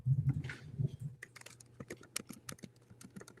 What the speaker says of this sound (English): All right, I'm typing. Hopefully it's not too loud.